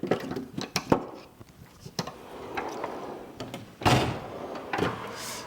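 A metal drawer of a DIY car-repair tool box slides open with rattling and clinking of the tools inside, followed by scattered knocks and a couple of louder sliding scrapes.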